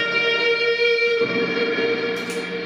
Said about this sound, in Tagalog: pag in-off ko, yun, may naiiwan na reverb siya.